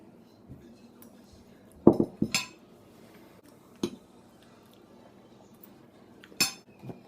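Metal cutlery clinks and scrapes against a plate while a slice of Betty Crocker limited edition watermelon cake is cut, a few sharp close taps spread out over quiet room tone.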